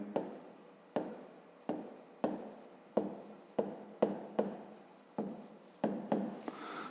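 A pen writes numbers by hand during a school maths exercise, giving about ten short, quiet scratching strokes in a steady rhythm, each starting with a soft tap.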